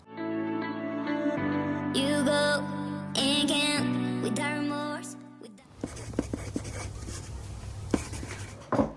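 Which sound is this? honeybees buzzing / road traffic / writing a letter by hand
writing a letter by hand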